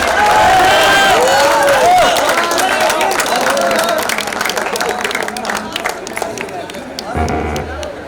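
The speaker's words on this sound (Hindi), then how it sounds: "समाप्ति पर जो आपकी तालियां बजी हैं" A college audience at an Independence Day poetry recitation breaks into lively applause and crowd murmur after a poem, with a voice speaking over the clapping at first.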